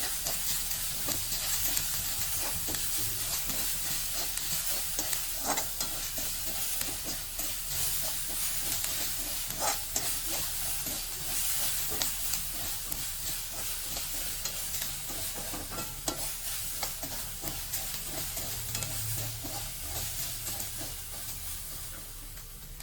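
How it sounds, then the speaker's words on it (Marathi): Ginger, garlic and chili paste sautéing in a pan for aloo paratha filling, a continuous bright hissing sizzle with faint intermittent stirring scrapes, no talking. "आता यामध्ये आपण अद्रक लसूण आणि मिरचीची पेस्ट घालूया व 2 मिनिटं परतून घेऊया"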